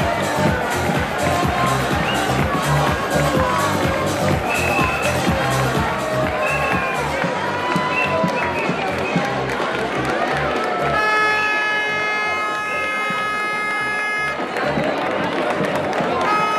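A crowd applauds and cheers at a youth football trophy ceremony in Isla Cristina as a second-place club from Huelva is honoured. The cheering is sustained and lively under shouted voices, and music briefly rises through the noise partway along.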